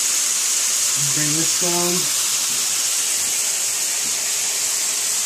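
Onions simmering in a pan in a tiny home kitchen, a steady loud sizzling hiss throughout, with a person briefly speaking over it early on.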